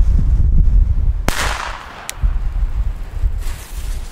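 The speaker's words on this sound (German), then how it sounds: "Vom Knall her für unter einen Gramm sehr gut eigentlich." A single sharp bang from a small firecracker of under one gram cracks out, loud and close, then fades into a brief rumbling echo over low background noise.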